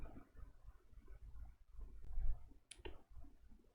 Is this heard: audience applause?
no